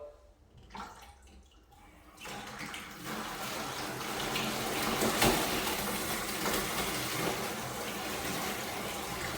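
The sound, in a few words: water flushing through newly installed plumbing line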